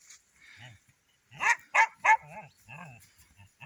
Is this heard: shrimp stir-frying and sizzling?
no